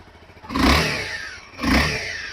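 A 2014 Honda CBR 250R motorcycle in neutral gets two short, loud throttle blips, its single-cylinder engine rising sharply and falling back to idle between them, with no one talking.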